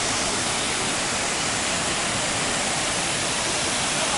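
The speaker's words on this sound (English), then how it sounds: "that's quite a bit of water flowing" A steady, dense roar of rushing water from a waterfall on the Reedy River, loud and unbroken, with no voices.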